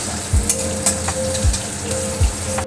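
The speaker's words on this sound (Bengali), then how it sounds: "পেঁয়াজগুলো একটু ভেজে নেব" Chopped onions sizzle steadily in hot oil with cumin and white cardamom tempering. A few soft scrapes of stirring break through the continuous loud frying hiss.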